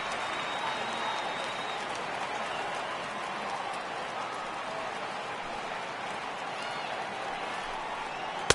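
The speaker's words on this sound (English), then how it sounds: "Crowd gets up for the 3-2" In a PS4 baseball video game, a stadium crowd rises for a 3-2 count, keeping up a steady, roaring wash of cheering and clapping for the whole stretch, with a sharp click at the very end.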